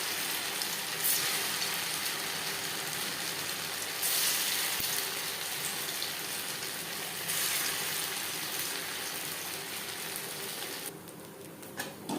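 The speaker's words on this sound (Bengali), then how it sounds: "একটা সাইড ভাজা হয়ে গেলে অপর সাইডটা উল্টে উল্টে দেব" Chhena koftas fry in hot refined oil, a loud, steady close-up sizzle that runs throughout, with brief swells when the pieces are moved and no voices.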